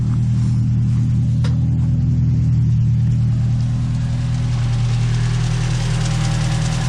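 Honda B20 VTEC engine idling in a car, a loud, steady low rumble up close with a constant drone and slight knocking texture, running without pause and with no voices.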